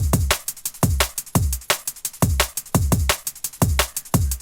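Percussion loop with sharp, regular drum hits in a steady repeating pattern, bright transients and short decays, heard alone and fairly quiet.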